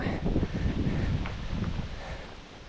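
Autumn wind blows along a canal lined with plane trees, a steady rushing buffet with rustling, stronger at first and easing off toward the end.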